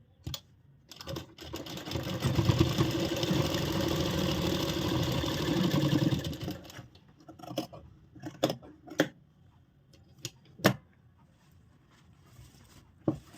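A sewing machine stitches along the side of a frock, running in a steady whirring burst for several seconds, then falling quiet apart from scattered sharp clicks and handling taps.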